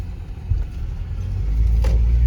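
A car drives through the streets of Belokurikha: a steady low engine rumble and road noise builds gradually, close and continuous, with no talk.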